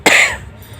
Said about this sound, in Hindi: लेकिन अभी भी काफ़ी खांसी आ रही है